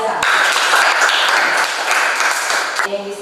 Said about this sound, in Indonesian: Tepuk tangan kelompok 1 yang kelompok 2 yang sudah tampil luar biasa